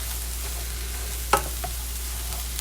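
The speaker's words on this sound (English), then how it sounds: "I'm tossing it around in some olive oil and butter." Cabbage stir-frying in butter and olive oil, a steady low sizzle with one sharp scrape of tossing near the middle and a fainter knock after.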